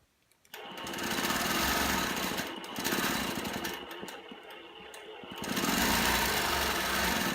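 A sewing machine stitches free-motion quilted feathers, its motor running close and steady with surges and brief dips in speed, with no talking.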